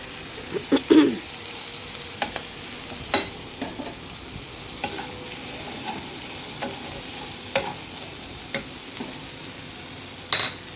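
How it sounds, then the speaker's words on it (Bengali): Potatoes frying in spiced oil in a wok give a soft, steady sizzle, broken by sporadic sharp scrapes and taps of a spatula as they are stirred. "তো দেখুন, আমি আলুটা নাড়িয়ে নিচ্ছি।"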